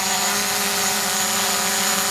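A DJI Mavic Pro drone lifting off the ground gives a loud, steady, close high-pitched propeller whine that holds constant throughout.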